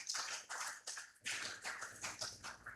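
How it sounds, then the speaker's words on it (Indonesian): Applause from a church congregation at a Christmas Eve night service, steady dense clapping in bursts across the whole stretch, loud and close with no talking. "Tepuk tangan buat Tuhan Yesus."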